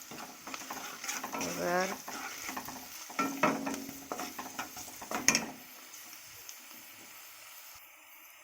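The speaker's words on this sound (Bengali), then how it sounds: "দিয়ে দেব পরিমাণ মতো একটু লবণ, একটু নেড়ে চেড়ে" A spoon stirs and scrapes through spices sizzling with salt and turmeric in a frying pan, with repeated close stirring strokes over a soft sizzle that fade out near the end, and a voice speaking briefly.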